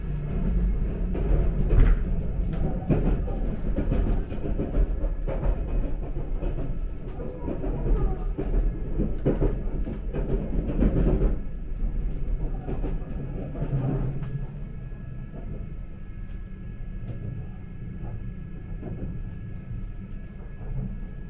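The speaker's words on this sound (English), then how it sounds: "After Machida Station, the train speeds up quite significantly" An Odakyu Limited Express MSE train runs on rails with a steady, loud rumble and repeated wheel clatter that eases and quiets toward the end, with no talking.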